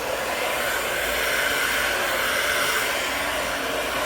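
A hair dryer blowing steadily and loudly up close while hair is dried over a round brush in a salon, a constant rushing whoosh with no breaks.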